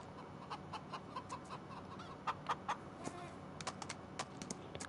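Chickens in Farming Simulator 25 on PS5, a run of short, close clucks and squawks coming in quick irregular bursts over quiet background ambience.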